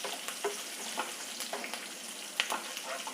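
Cashews frying in ghee over a slow flame for tomato masala rice, a soft steady sizzle with occasional stirring clicks and scrapes, fairly quiet and without speech.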